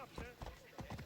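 Quick rhythmic hoofbeats of a galloping horse in the video game Assassin's Creed Odyssey, fairly close and steady, with a faint voice underneath.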